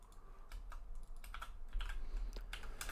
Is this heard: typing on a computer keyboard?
yes